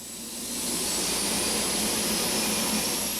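A large military cargo jet's engines roar as a steady, loud broadband whine with a high-pitched tone, swelling in the first half second and then holding constant, with no voices.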